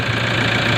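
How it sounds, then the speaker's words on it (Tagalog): A 2006 Toyota Hilux engine runs steadily just after starting, a close, continuous mid-pitched idle with a slight knocking rumble and no talk. "Si Chief Ryan, umandar na po mga sir"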